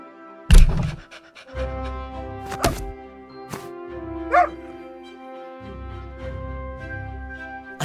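A dog in the point-and-click video game Simon the Sorcerer Origins gives a sharp bark, then pants in repeated bursts over a steady musical backdrop, with a few soft thuds and yips mixed in.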